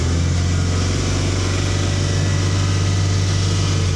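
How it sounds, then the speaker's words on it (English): A 1997 Toyota Corolla van engine held at a raised, steady rev with the air conditioning running, a loud continuous drone with a strong low hum, close up and without talk. "Let's just give it a little rev to make that work faster."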